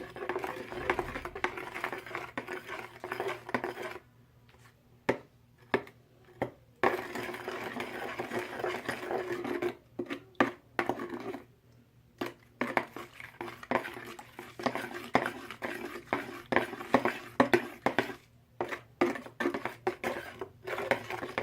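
Powdery glitter dust stirred in a small container, with intermittent scraping and clinking of a utensil against the sides, close and quiet, broken by brief pauses.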